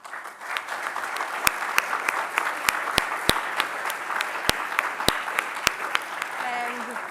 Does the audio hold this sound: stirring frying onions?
no